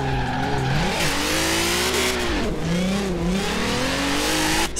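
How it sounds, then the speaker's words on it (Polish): Volkswagen Golf 4 GTI drifting in Forza Horizon 4, its engine revving up and down in sweeping tones with tire squeal, loud and close throughout. "Samochód jest tyle ciekawy, że on bez problemu driftuje na czwórce nawet."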